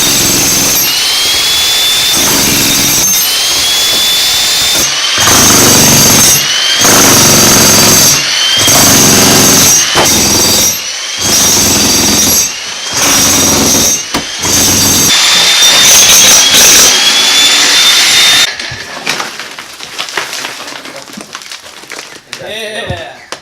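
A Harbor Freight 15 amp 35 lb pro demolition hammer with a chisel bit pounds continuously up close, loud and harsh, with brief stops between long bursts before it cuts out near the end.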